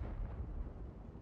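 A heavy cannon shot from an AMX 50 Foch tank destroyer in a video game booms close and loud, a dense rumbling blast that fills the whole second without any talk.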